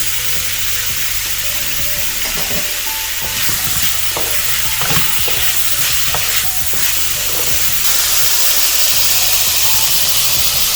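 Tomatoes added to squid stir-frying in a pan for adobong pusit, with a loud, steady sizzle and hiss broken by repeated utensil scrapes and stirring knocks, the frying growing louder toward the end, no speech.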